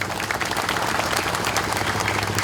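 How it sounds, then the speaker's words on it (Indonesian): A dense burst of crowd applause at a Nahdlatul Ulama centenary anniversary gathering, loud and continuous throughout the short stretch. "Tepuk tangan untuk"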